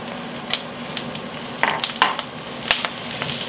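Halved Brussels sprouts sauté in a pan with salted pumpkin seeds, giving a steady low sizzle broken by a handful of sharp, close pops and stirring clicks scattered through the sound.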